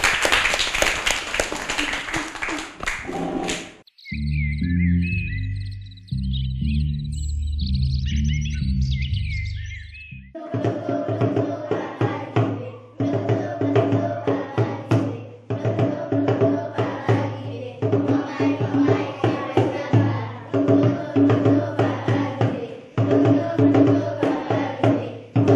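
Florian plays a djembe in a steady, repeating hand-struck pattern of crisp slaps and deeper tones that carries on loudly through the second half, after an earlier stretch of different music.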